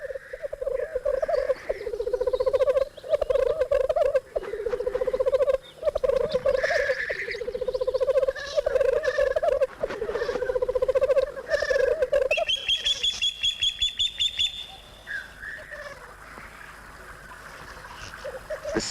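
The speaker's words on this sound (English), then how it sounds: "The blackcock lek is a yearly courtship ritual involving a great deal of huffing and puffing" Male black grouse display at a spring lek near a loch, making a continuous run of bubbling, cooing calls punctuated by sharp hissing sneezes, with brighter bird chirps later on.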